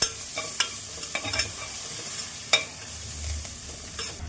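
Eggplant being stir-fried in a pan until golden, with a steady low sizzle broken by a few sharp spatula scrapes and clinks, close and fairly quiet, no talking.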